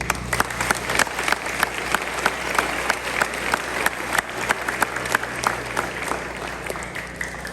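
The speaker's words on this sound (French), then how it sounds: "On les applaudit." A room full of people claps steadily at a school anniversary ceremony, dense applause with a few sharper individual claps standing out, sustained throughout.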